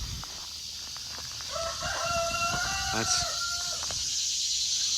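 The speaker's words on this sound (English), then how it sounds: "I believe we found chickens." A rooster crows loudly in the middle of the clip at Red Oak II, Carthage, Missouri, its long drawn-out call rising over a steady outdoor hum, with a few faint clucks around it.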